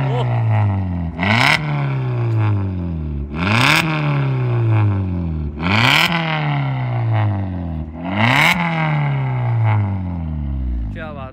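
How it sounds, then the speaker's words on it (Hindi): Modified 2023 Maruti Suzuki Baleno running on CNG, tuned exhaust revved hard four times in a row, each blip rising sharply then falling back to a rumbling idle, loud and close with no talk over it. "चलो एक बार एग्जॉस्ट की साउंड और सुना देते हैं"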